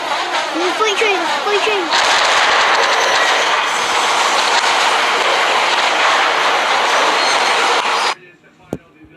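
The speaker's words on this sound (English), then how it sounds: "There's the freight train" A freight train rolls along the tracks in a train crash simulation game, a loud steady rumble with clattering from start to near the end, then cuts off abruptly; a voice talks briefly over the opening.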